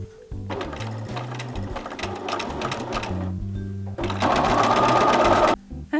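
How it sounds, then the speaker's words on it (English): A sewing machine stitches around a garment leg in bursts of steady mechanical whirring, stopping briefly between runs and then starting again, close and clear. "now that I have finished sewing all around"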